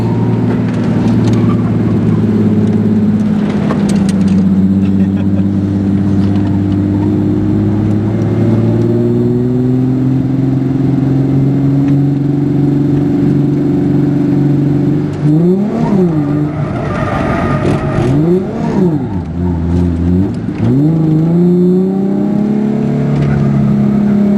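A drift car with a welded differential and a Miata in the lineup on a track at the Import Spring Showoff: a loud engine drones and rises steadily, then revs up and down rhythmically through slides, with faint tire noise beneath.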